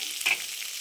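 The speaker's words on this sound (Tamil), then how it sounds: "நல்லா வதக்கிக்கணும்." Ingredients sautéing in a pan with a brief stir, a steady close sizzle and a short scrape near the middle of the moment.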